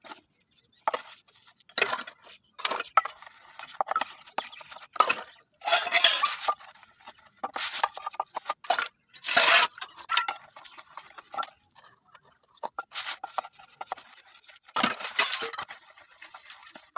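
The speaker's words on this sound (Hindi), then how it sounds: "तो चलो फटाफट सबसे पहले बर्तन धुलते हैं" Dishes, pots and utensils being washed by hand, with irregular metallic clinks, clanks and scraping in scattered bursts at close range, separated by short quiet gaps.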